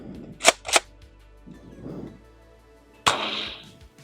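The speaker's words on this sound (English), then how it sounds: "So fired flat, the Mega Dart reached 20 feet." Nerf Aliens pulse rifle firing Mega Darts: two sharp close pops in quick succession, a pause with faint handling noises, then a third louder snap with a brief rattling tail.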